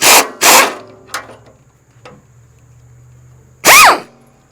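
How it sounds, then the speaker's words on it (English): Old fender-flap fasteners come off the fenders of a 1989 Freightliner truck: loud, close bursts from a power tool, one with a rising and falling whine, separated by quieter stretches with a low background hum. "basically I'm just taking these old fasteners off"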